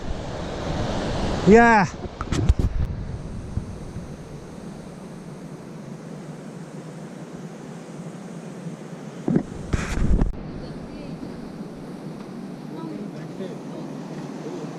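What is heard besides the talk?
mountain river stream flowing near Beas, Manali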